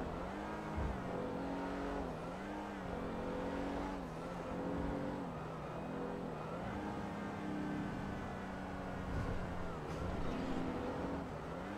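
Turbocharged Hyundai Veloster driven through highway traffic in GTA V, its engine droning steadily and rising and falling with throttle changes throughout, fairly loud and continuous with no talking over it.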